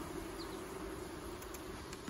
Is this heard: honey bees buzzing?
yes